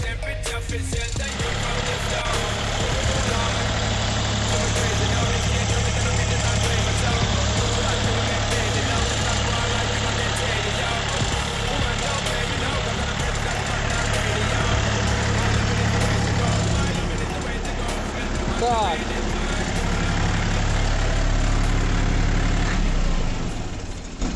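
DW 244 AN mini tractor engine idling steadily after a short warm-up, a constant low diesel rumble close by throughout, with someone talking over it.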